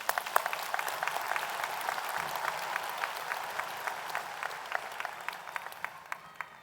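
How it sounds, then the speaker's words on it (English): Applause from a graduation ceremony audience for a postmaster's certificate recipient, a steady patter of many hands clapping at a moderate distance with no voices over it. "Let us applaud the recipient of the postmaster's certificate."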